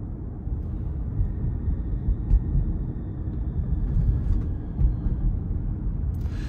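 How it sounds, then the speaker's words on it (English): A steady low rumble of tyres on the road with a soft wind hiss inside a moving 2018 Lexus RX350 F-Sport SUV, constant and fairly quiet. "There is some road noise you can hear"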